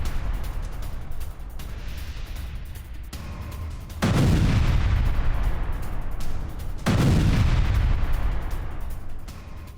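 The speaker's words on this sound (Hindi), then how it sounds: "हिजबुल्लाह के हथियार गोदाम पर भीषण बमबारी की गई है" An Israeli airstrike hits a Hezbollah weapons depot in Lebanon: two heavy, close booms land a few seconds apart, each followed by a long roaring rumble over a constant background of lower, distant noise.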